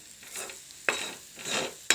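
Jackfruit pieces frying in a pan, sizzling steadily while being stirred in two sharp, close scraping strokes. No voices.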